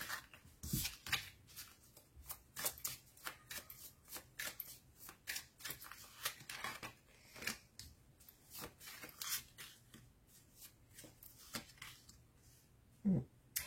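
Tarot cards are shuffled close by for a reading, a long run of crisp riffling flutters and soft slaps coming in quick irregular bursts, quiet and with no talking.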